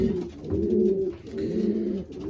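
Racing pigeons at a club coo repeatedly in soft, rolling, throaty phrases while being basketed for a 383 km race. The coos are close and steady throughout, with no talk.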